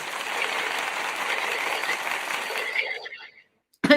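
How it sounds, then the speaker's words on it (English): Applause from a group fills the space as a dense, steady patter of clapping, holding at an even level before fading out, followed by a brief sharp clatter at the very end. "I got to give him a round of applause"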